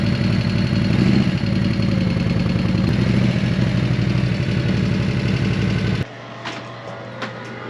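An old Harley-Davidson motorcycle idles loud and close with a steady, lumpy mechanical throb, then drops abruptly to a quieter background hum near the end.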